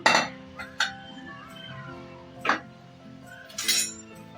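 Lid of a pressure cooker holding bagara rice being opened after the steam is released, with a few sharp metallic clinks and clatters and some kitchen handling noise in between.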